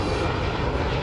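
Airbus A320 airliner with new Sharklet wingtips flying a display at the ILA Berlin air show, its jet engines giving a steady, loud broadband roar throughout with no voices.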